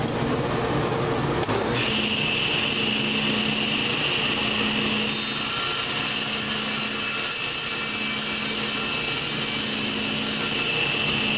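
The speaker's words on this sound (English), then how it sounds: "I'm just going to run it through my saw like that" A power saw runs steadily at high pitch as it cuts a wooden tenon held at an angle by a wedged jig, the blade note shifting as it bites into the wood, continuous and close for over ten seconds.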